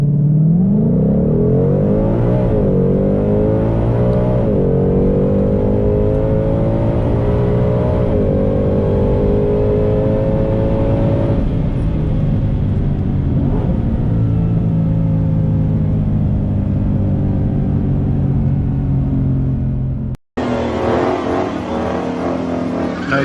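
A 2022 Ford Shelby GT500 launches hard down the drag strip at Lebanon Valley Dragway, engine roaring loud and near through several rising gear pulls, then cutting abruptly to a different, brighter scene of noise.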